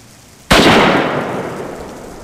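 A single loud rifle shot at a caribou in the hunting video game Trophy Hunter 2003, sharp crack after brief quiet, followed by a long decaying echoing rumble.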